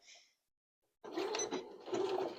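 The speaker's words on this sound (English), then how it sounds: "I got my machine set just with a regular straight stitch. I'm going to stitch around" A sewing machine straight-stitching around a fabric butterfly shape, two short bursts of close mechanical whirring and clatter after a brief pause, run slowly.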